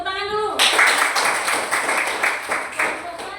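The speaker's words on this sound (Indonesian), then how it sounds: "Kasih tepuk tangan dulu" Students in a classroom give a short round of clapping, quick dense claps that start abruptly after a brief voice and continue briskly for a few seconds.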